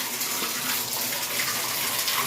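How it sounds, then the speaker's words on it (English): A shower running inside a Bronx home, a steady broadband rush of spraying water, close and constant, with no voices. "I'm about to run the shower"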